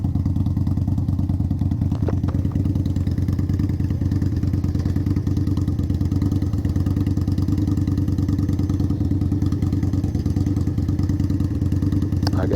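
An Indian Scout Bobber motorcycle rides along with a steady, close, throbbing engine and exhaust drone and an even rumble throughout.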